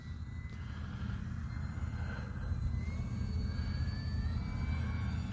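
An Arrows RC Bearcat model warbird airplane flies overhead with a steady engine drone, its pitch sweeping gently as it passes through maneuvers, held continuously at moderate loudness.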